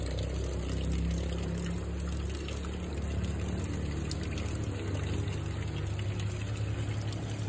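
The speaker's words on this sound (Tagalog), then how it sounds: "Ang liit ng tulo ng tubig." A weak trickle of water flows steadily and faintly through a low, continuous wash, quiet and unbroken, with no voices.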